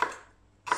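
Two sharp knife chops on herb stems for ceviche, close and crisp, separated by a short quiet pause without talk.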